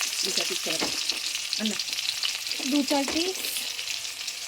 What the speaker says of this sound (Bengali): এটাকে লাল লাল করে ভাজা করবো